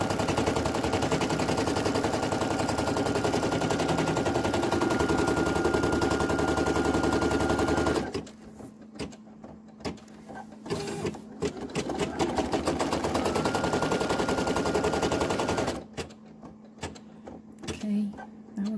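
A Brother PE800 embroidery machine stitches an applique, giving a loud, rapid, continuous mechanical chatter for about eight seconds, then pauses, then resumes for a stretch of stitching before stopping again.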